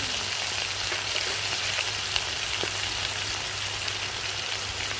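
Spices, cumin-ginger paste and turmeric fry in hot oil for a Bengali katla fish curry with bottle gourd, a steady close hiss and crackle of sizzling with no voices.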